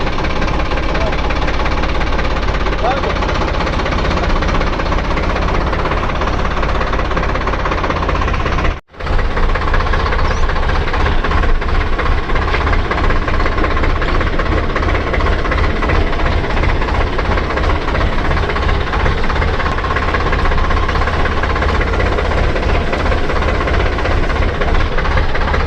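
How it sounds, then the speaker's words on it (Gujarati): A tractor engine runs loud and close with a steady knocking chug that barely changes, broken once by a brief dropout. A voice is faintly heard under the engine noise. "હું ચાલો તો પહેલા ગેરમાં ટ્રેક્ટર રખાડું તો કાંઈ થાય એમ નહીં."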